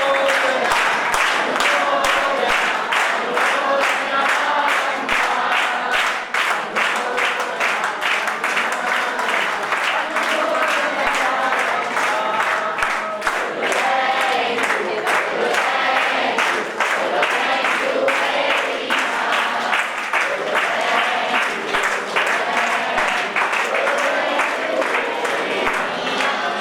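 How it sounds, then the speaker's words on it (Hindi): A crowd at a felicitation ceremony at Pachane Tirth clapping together, sustained loud, rhythmic unison claps repeating at a steady beat for a long stretch, with faint voices underneath. "एक बार हम सब 3 ताली से मान देंगे"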